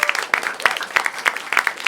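A stand-up comedy crowd applauds, a rapid ragged mass of claps with sharp louder hits standing out at close range, steady for under two seconds.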